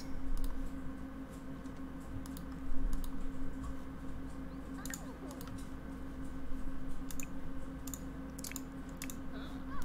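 A Sims 4 character types on a computer keyboard to write jokes, a quick irregular patter of key clicks over a steady low game-music hum.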